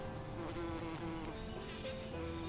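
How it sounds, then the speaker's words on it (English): Bees buzz steadily around comfrey flowers in a garden, a continuous loud insect drone with several overlapping wingbeat tones and no talk. "The flowers on it are attracting the bees quite nicely."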